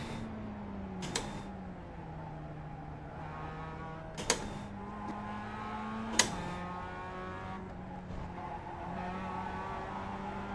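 A Mazda MX-5 race car engine in a racing video game drones steadily with shifting pitch at Oulton Park, broken by a few sharp clicks or knocks, with no one talking.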